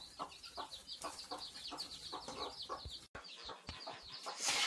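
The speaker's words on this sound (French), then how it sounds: "Donc il y a 9 petits poussins que je vous laisse apprécier." A hen with her nine small chicks clucks softly and repeatedly, with high peeping calls of the chicks mixed in, faint and close, no talking.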